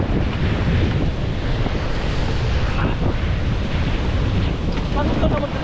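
Sea waves wash ashore in a loud, continuous broadband rush mixed with heavy wind buffeting the microphone. A few faint voices sit underneath.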